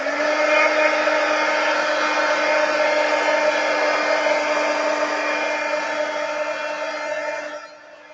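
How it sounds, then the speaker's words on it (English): A heat gun used for paper crafting blows with a steady, loud, close whirring hiss and a constant motor hum for about seven seconds, then winds down at the end, with no talk. "I'm just going to grab my heat gun."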